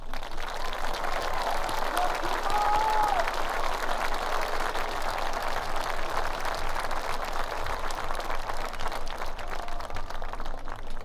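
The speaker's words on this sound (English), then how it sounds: "please join me in thanking these wonderful educators with a round of applause" A graduation ceremony audience at a high school gives the teachers a long round of applause, with steady, dense clapping that holds evenly throughout at a moderate distance.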